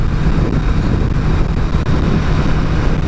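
Kawasaki Z800 with a slip-on exhaust running at low RPM: a loud, steady, close engine rumble with a slightly uneven burble, mixed with wind noise and no talking.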